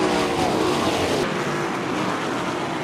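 ASCS sprint cars race at Salina Speedway under green, a loud sustained roar of engines filling the track with a steady, dense drone and no talk over it.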